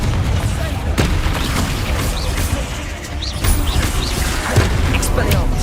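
Booming spell blasts from Hogwarts Legacy gameplay, the Confringo fire spell mixed with other combat spells, repeated heavy impacts and bursts over a dense, loud game soundscape with a voice calling out spells.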